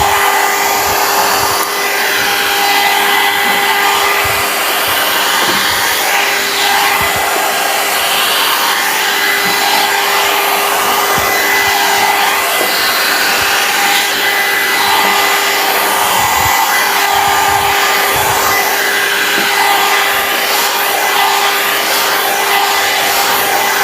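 A Pretech 4-in-1 volumizing hot air brush blow dryer runs continuously at close range, a steady loud whirring hum with an airy hiss and a constant motor whine, and no talking.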